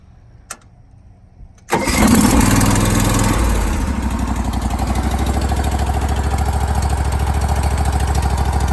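A Briggs & Stratton Vanguard engine in a John Deere 318 tractor cold-starts on a little choke: a faint click, a brief crank, then it catches and settles into a loud, steady, throbbing idle.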